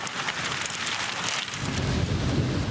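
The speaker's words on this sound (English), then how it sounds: "You can hear the hail slamming down." Hail pounding down in a thunderstorm near the Nebraska border, a dense, heavy clatter with a deep rumble swelling partway through, loud and continuous.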